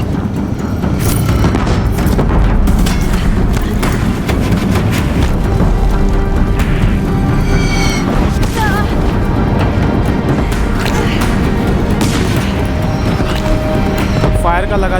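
Deathbringer machines in the video game Horizon Zero Dawn firing on a bridge, heavy continuous booms and crashing impacts layered with game music and effects, loud throughout, with a voice speaking over the barrage.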